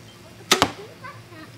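An arrow is released from a bow fitted with a Medusa drop-away arrow rest, shot from the down position, producing two sharp, close snaps in quick succession followed by faint low rustling.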